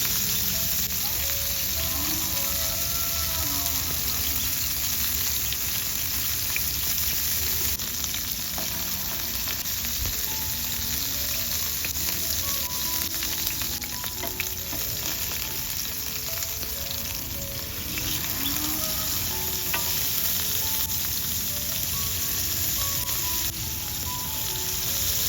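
Beef liver fries in hot oil in a pan, a steady, close, continuous sizzle with crackling pops running throughout, no talking over it.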